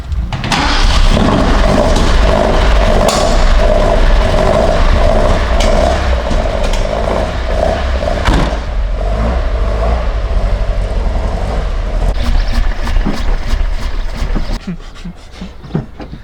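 A car engine cranks and catches, then runs loudly and roughly close by for a long stretch before it eases off near the end.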